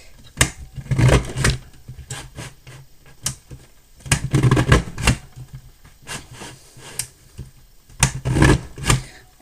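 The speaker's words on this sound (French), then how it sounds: "Maintenant, on va découper une bonne largeur avec la perforatrice Advantage." An Advantage paper punch perforates paper for a handmade birthday card, producing three clusters of crisp clicking, crunching presses, each a quick burst of sharp mechanical snaps, close and fairly loud.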